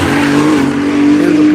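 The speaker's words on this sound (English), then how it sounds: "Followed closely by Mike Forsythe in the Supra and Kevin Welsh" Race cars, including a Supra, lapping a track during a One Lap of America event: a loud, sustained engine drone with a steady high tone, passing close.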